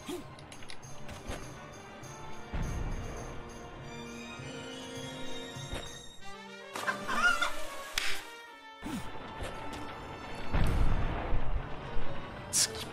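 Chicken clucks and squawks sound in the video game ALTF4, scattered among game music, thuds and effects, moderately loud over a busy backdrop.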